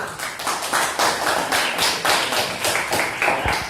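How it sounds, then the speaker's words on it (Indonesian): A group in a classroom gets a round of applause, dense rapid claps sounding close and steady for a few seconds with no talking over them. "Oke, applause to this group."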